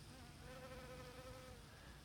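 Honeybees buzz among blossoms in a Missouri backyard garden in July, a steady, close insect hum with wavering pitch that fills the whole stretch, with no talking.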